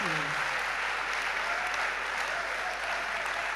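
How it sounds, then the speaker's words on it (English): Continuous audience applause rings out at an awards ceremony honoring top-performing secondary school students, a dense, even wash of clapping from a large crowd, fairly distant and steady. "please give them a very loud applaud, the loudest you can give"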